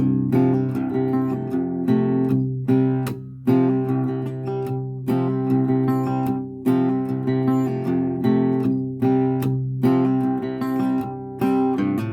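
A guitar plays the strummed, chord-based verse of a song with a steady rhythm, full and prominent throughout, with no voices.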